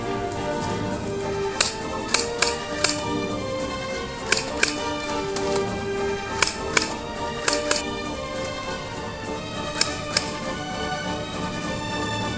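A Pulsar Pro V gel blaster fired in single-shot mode gives sharp, separate snapping cracks, about a dozen spaced irregularly in small clusters over a steady background hum.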